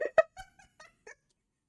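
A cat gives a series of short, tonal, complaining meows and chirps, about six in a row, fading softer toward the end. The cat is close and heard alone in an otherwise quiet room.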